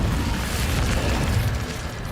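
A fire spell cast in the game Hogwarts Legacy bursts into a loud, dense whoosh of flame, a roaring blast that fills the short moment and holds steady.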